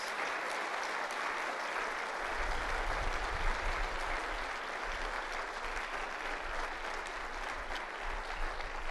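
A convocation audience gives a sustained round of applause, a dense, steady wash of many hands clapping that holds evenly throughout without any talking.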